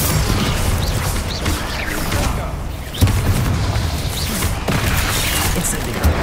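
Spell blasts from Hogwarts Legacy gameplay, including Confringo, Expelliarmus and Incendio casts, come as dense booming bursts and crashes over a continuous loud game backdrop, with one sharper impact midway.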